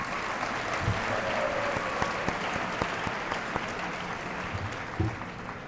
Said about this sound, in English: give the class of 2014 a round of applause for sitting up here in their caps and gowns